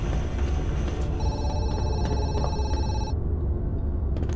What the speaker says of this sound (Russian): Телефон?